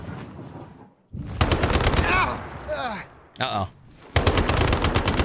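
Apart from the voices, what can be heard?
gunfire shooting a ghost boss in video game Once Human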